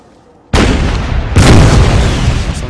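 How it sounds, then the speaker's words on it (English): Cannon artillery fire in the video game Empire: Total War: a sudden loud boom followed by a second blast about a second later, then a sustained roaring rumble as the barrage continues. "Alright, so we got them under cannon fire now."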